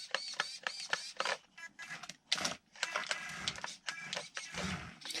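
Tiny RC car driving around indoors, its small motor giving short, irregular high-pitched buzzing bursts with quick stops and starts, close and fairly quiet.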